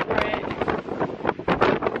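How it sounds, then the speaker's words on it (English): Strong, gusty wind buffets the microphone on a rim overlook at the Grand Canyon, a loud broadband rush that surges and eases in waves, with no talk. "The wind is insane."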